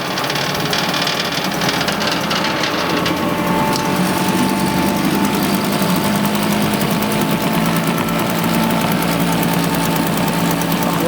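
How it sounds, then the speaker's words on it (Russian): A small 2007 Japanese car engine running at a steady idle after starting, a loud continuous mechanical whirr with rapid ticking and knocking, without voices. "примерно так вот заводятся японские моторчики"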